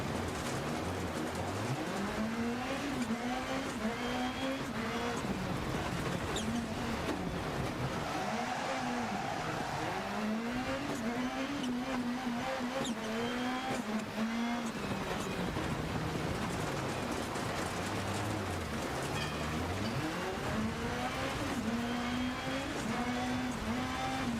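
A rally car in Dirt Rally 2 drives a practice lap, its engine revving steadily up and down through the gears with tire noise, continuous and fairly quiet, with no voices.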